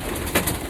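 Pigeons in a breeding loft give a soft, brief coo under a steady bed of background noise, close and quiet, with no talk.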